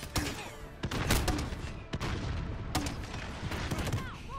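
Rapid gunfire and explosive bursts in Call of Duty: Modern Warfare, dense overlapping shots and booms in a loud continuous battle mix with sharp individual cracks standing out.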